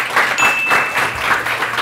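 An audience claps steadily and fairly loudly for a short stretch, a dense even patter of hands with no voice heard above it.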